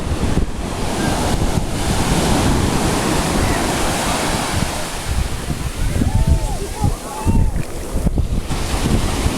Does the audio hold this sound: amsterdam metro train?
no